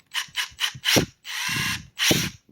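A Makita compact impact wrench triggered repeatedly, giving four short bursts of motor whir, then a longer sustained run and one more burst, loud and close with no talk.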